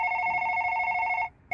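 A telephone rings in a 1960 science-fiction film, a steady electronic double-tone ring that cuts off briefly and then starts again, clear and prominent.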